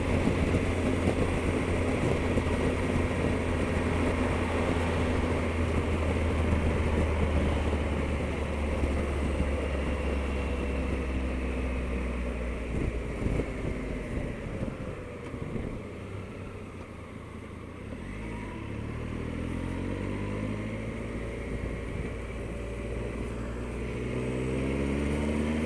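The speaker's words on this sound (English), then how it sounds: "A motorcycle approaching from the rear." A motorcycle approaches from behind on the A12 northbound over steady road and wind noise inside a car, its engine tone rising and sweeping as it draws closer near the end.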